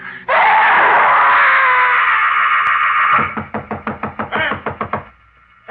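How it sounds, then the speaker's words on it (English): A long distorted scream from a radio drama gives way to a rapid series of loud knocks on a door, then a brief pause and silence. "She was knocking at the door."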